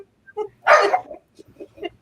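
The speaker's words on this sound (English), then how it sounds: "You got enough dogs there, Eddie?" Several dogs crowded into a small space give a loud bark followed by short yips and whimpers, close up and in quick, uneven bursts.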